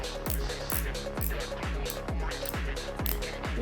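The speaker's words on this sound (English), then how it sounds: "we also have this one that makes a little cracker sound like this" A 3D printed fidget toy gives off rapid sharp cracking clicks in a steady repeating rhythm, loud and close, with no talk over it.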